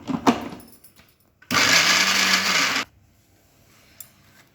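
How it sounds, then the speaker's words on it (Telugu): A kitchen mixie grinds green chillies and salt for tamarind chutney in one loud, steady whirring burst of about a second and a half, preceded and followed by faint clicks and handling sounds. "సాల్ట్ వేసుకొని ఇప్పుడు మిక్సీకి వేసుకోవాలి."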